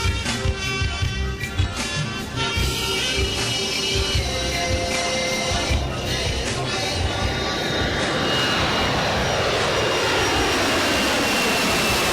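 Boeing 767 jet engines roar loudly and steadily, with a rising whine sweeping upward as the sound swells, close and continuous throughout.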